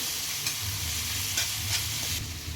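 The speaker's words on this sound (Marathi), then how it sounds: "चांगलं मिक्स करून घेऊ परतून घ्यायचं तेलामध्ये" Vada pav filling being stir-fried in oil, a steady sizzle with a few quick scraping stirs, close up and free of speech over a brief stretch.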